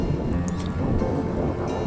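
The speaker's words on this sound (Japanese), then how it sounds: "海の音も聞こえてきました" Sea waves at Onjuku beach, a steady low broadband wash of surf rolling continuously, fairly close and even in loudness, with no talking.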